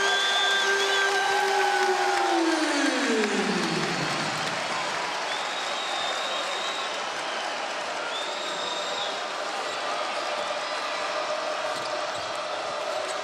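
Crowd roar fills a college basketball arena during Penn State versus Michigan, a loud, sustained wash of cheering and noise throughout, with falling whistle-like tones early and brief buzzer-like tones later.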